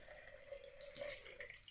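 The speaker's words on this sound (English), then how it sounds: "Get your water and put your water in." Water is poured into a jar for a simple flower arrangement, a faint, close trickle and splash with soft bubbling, quiet and steady, briefly louder midway, with no voices.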